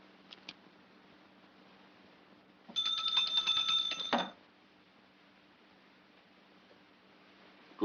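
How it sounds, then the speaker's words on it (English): A doorbell rings once in a 1951 film, a bright ringing peal lasting over a second amid an otherwise quiet room, with no talk over it. "please ring the bell, would you?"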